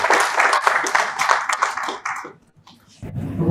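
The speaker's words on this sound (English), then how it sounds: "A round of applause for her," Audience applause at the GetBundi Breakfast and Networking event, a dense broadband patter of many clapping hands that fades out midway, followed by a low rumble of room noise.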